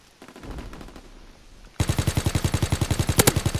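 Automatic weapon fire from the World War II shooter Call of Duty: WWII, starting abruptly as a loud, rapid, even burst of shots that runs to the end after a quieter stretch of distant battle noise.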